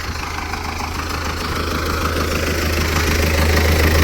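MTZ 80 tractor engine running steadily while sowing corn with an SPU-8 seeder, a loud, close, rhythmic low diesel chug that grows slightly louder throughout, with no talking.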